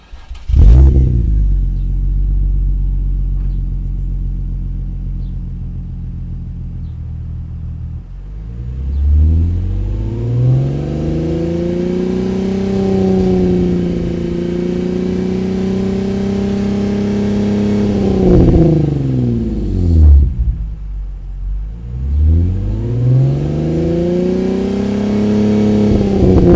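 A car fitted with a non-factory aftermarket exhaust idles loudly up close, then is revved repeatedly: two long rising-and-falling throttle sweeps with a short dip between, a deep booming drone with no talking.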